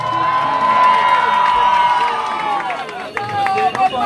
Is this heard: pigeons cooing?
no